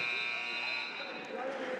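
A loud, sustained electronic buzzer ends the first half of a boys' high school basketball game in a gym, droning steadily throughout as crowd noise and commentary continue underneath.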